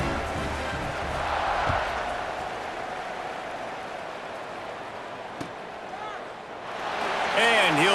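Stadium crowd in EA Sports College Football 26 roars steadily through a kickoff, a broad sustained cheer with a commentator talking over it and the noise swelling again near the end.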